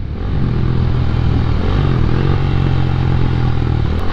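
A KTM motorcycle rides along the UK south coast during Hurricane Brian, its engine a steady close drone under constant rushing wind noise.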